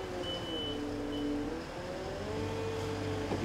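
Kramer 8 Series loading shovel reversing, a continuous engine drone with a shifting pitch and a faint tonal whine, steady and moderately loud with no talk.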